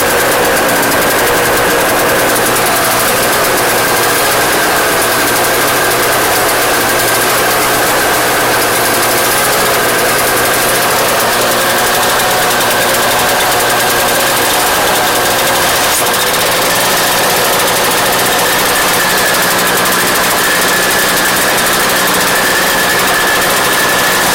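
A small engine on a snow blower found free in the garbage runs continuously, a loud, dense, steady buzzing chatter close to the listener with little change in pitch and no speech.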